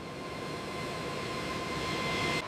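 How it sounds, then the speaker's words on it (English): A B-52 Stratofortress bomber taxis on an airfield toward the runway, its engines giving a steady, loud whining roar that swells slightly as it passes. "The immense wingspan of the Stratofortress dominates the airfield as it passes."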